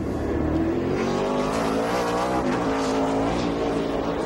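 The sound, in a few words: NASCAR race cars accelerating off pit road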